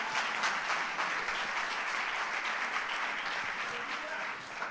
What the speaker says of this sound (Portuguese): Você aplauda Jesus